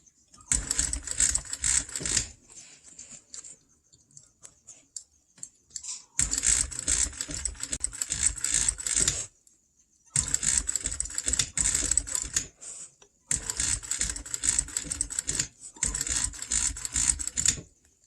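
A sewing machine stitches along an upholstery seam, working over a ripped seam allowance. It runs in four close, rapid, rattling bursts of a few seconds each, separated by short pauses.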